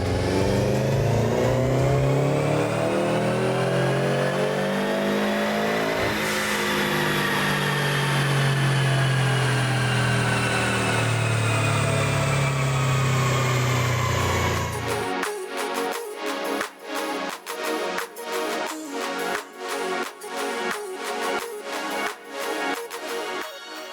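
A Subaru WRX with its stock exhaust revs hard on a dyno. The engine climbs in a long loud pull, drops back, then climbs again before it cuts to a rapid, stuttering idle and blips near the end.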